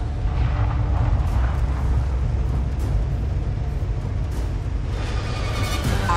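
Explosions of destroyed units in the real-time strategy game Halo Wars 2, a dense, sustained roar of rumbling blasts and booms that stays loud throughout.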